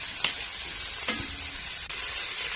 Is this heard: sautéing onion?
yes